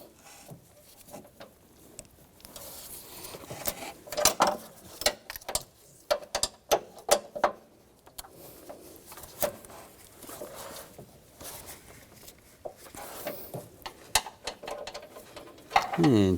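A ratchet wrench fitted with a 13mm socket loosens transmission mount bolts on a 2011-2019 Ford Explorer, bursts of rapid clicking ratchet action with metallic clanks, close up, separated by quieter pauses.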